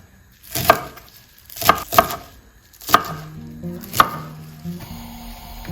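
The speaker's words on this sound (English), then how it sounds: "So I'm going to chop that up to another half here and then cut it into chunks." A knife chops a bunch of vegetables into chunks on a cutting board while preparing calamari yakisoba: about five sharp, close strikes at irregular intervals, with soft tonal background sound near the end.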